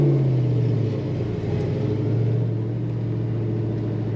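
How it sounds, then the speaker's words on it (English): Exhaust of a 1965 Oldsmobile Cutlass convertible restomod, a steady deep low rumble with a slight dip and rise in the throttle, close and loud with no talking. "Nice sounding exhaust."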